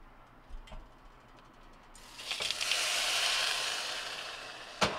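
Hot water poured onto toasted rice in a hot pot, erupting into a loud steaming hiss and sizzle after a couple of small clinks, then settling.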